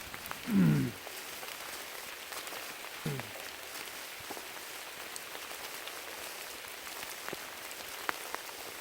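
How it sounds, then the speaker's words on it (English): Rain pattering steadily in Uwharrie National Forest on a winter backpacking trip, a soft continuous patter of drops with a few sharper taps, and a brief low voice near the start. "It's definitely raining now."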